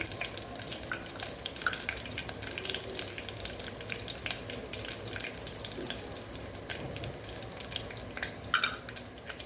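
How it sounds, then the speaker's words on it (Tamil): Steady crackling and spitting of mustard seeds popping in hot oil, dense and continuous with occasional sharper pops, close by and moderately loud. "கடுகு வெடிக்கட்டும்"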